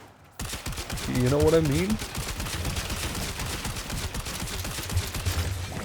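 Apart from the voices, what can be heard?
Stug gun firing in Warframe video game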